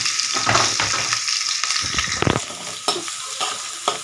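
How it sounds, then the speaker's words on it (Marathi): Garlic, green chillies and onion sizzle loudly in hot oil for a tempering, with steady crackling frying and occasional scraping stirs of a spoon in the pan, heard close with no talk. "हे कट केलेला आपला लसूण टाकत आहे. तो छान असा परतून निघेल आता 1-अर्धा मिनिटामध्ये."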